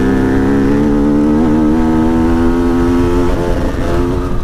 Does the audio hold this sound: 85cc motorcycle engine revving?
yes